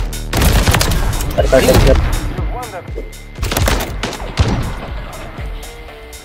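Intervention sniper rifle in a video game: a run of loud, sharp shots and booms in quick succession, close and punchy, with a brief spoken exclamation between them.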